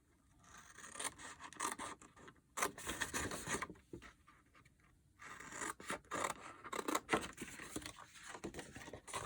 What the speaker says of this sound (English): I'm cutting to the 4 inch score line.